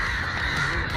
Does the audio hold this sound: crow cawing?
yes